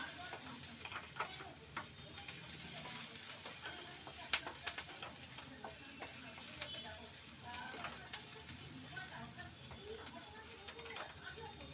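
Ingredients lightly frying in a pan, a continuous soft sizzle with frequent crackles and one sharp click of a utensil, heard close and fairly quiet.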